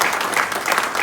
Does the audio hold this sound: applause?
yes